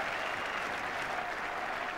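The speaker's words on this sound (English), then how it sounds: "And plenty of applause." Cricket crowd applause at a 1983 World Cup one-day match between England and Sri Lanka at Taunton, steady clapping from a packed ground heard a little distant.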